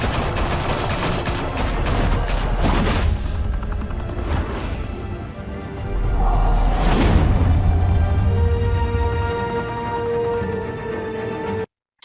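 Gunfire in the Batman: The Telltale Series video game, with rapid bursts of shots and sharp impacts crowding the first few seconds, then a louder blast with rumbling booms and a sustained tone before fading out.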